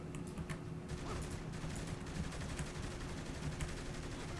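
Gunfire in Saints Row The Third rattles steadily through a busy combat scene, quick repeated shots at moderate distance over a constant low rumble of game noise.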